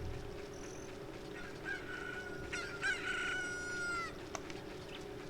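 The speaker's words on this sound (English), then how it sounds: "So my chicken hatched." In Zelda: Ocarina of Time, a newly hatched chick crows once at Hyrule Castle, a rising, drawn-out cock-a-doodle-doo, clear and close over low game ambience.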